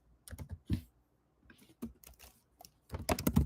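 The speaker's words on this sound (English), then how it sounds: "So I'm gonna type that all over again." Typing JavaScript code on a computer keyboard, close and clear: bursts of rapid key clicks separated by short pauses, with no talking.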